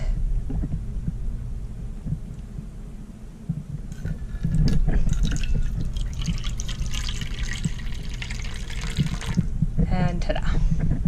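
Filtered water pours into a container of water crystals for a Dubia roach colony, a gurgling, trickling splash that grows fuller and louder midway over a low background rumble.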